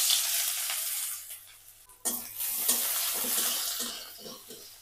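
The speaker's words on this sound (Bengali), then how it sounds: "এখানে তেল দিচ্ছি, সয়াবিন তেল। তারপর দিব হচ্ছে পেঁয়াজ আর রসুন কুচি।" Chopped onion and garlic hit hot soybean oil in a pan with a sudden loud sizzle midway, after a quieter crackle, frying steadily close by with light stirring clatter and no talk.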